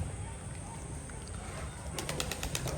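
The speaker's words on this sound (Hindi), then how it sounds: "ये उड़ गया" A burst of rapid wing flaps as a pigeon takes off nearby on a goat farm, over a steady background hum.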